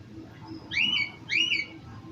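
A pet parrot indoors gives two quick whistled calls, each rising and falling, about half a second apart, over a quiet room hum with no talking.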